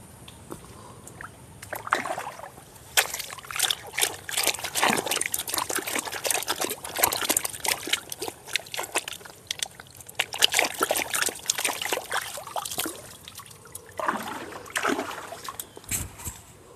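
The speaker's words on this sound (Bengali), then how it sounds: "তালটা কাদা হয়ে গেছে, ধুয়ে নিচ্ছি আমি" Water splashing and trickling as a muddy palmyra palm fruit is rinsed, steady close wet sloshing and dribbling throughout with no talk.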